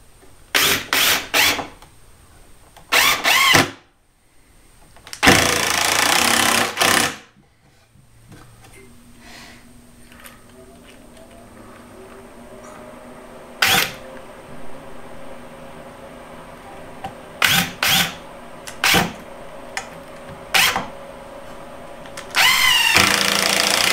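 A power drill drives 2.5-inch construction screws into a DIY shop storage cart, loud whirring bursts of a few seconds each, with longer runs early on and shorter ones later, separated by quiet pauses and faint handling noise.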